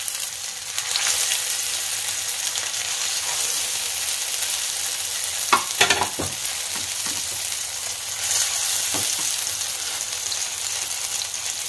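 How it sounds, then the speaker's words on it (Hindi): Chicken shami kababs fry in hot mustard oil with a steady, close sizzle, broken by a short burst of louder crackling and spatters near the middle. "आइए इसे फ्राई करते हैं मैंने मस्टर्ड ऑयल लिया है"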